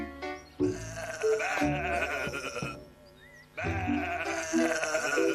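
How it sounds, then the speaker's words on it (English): Sheep bleat loudly and close by, with two long wavering calls split by a short pause and no talking. "Oh, where are my sheep?"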